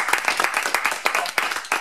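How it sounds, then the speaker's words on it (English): Audience at a Cambridge micro:bit meetup clapping briefly, a short burst of close, uneven handclaps from a small crowd in a room. "too much applause"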